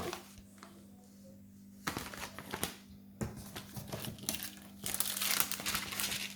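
Thick transparent paper crinkles and crackles as a stiff sheet is handled, with bursts of rustling growing louder toward the end over a low hum.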